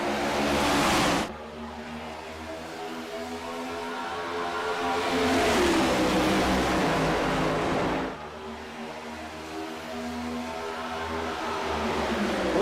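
Race cars roar back to speed on a restart at Talladega in a video game, a loud sustained engine drone that swells and fades as a long line of cars passes, with a brief cut between passes.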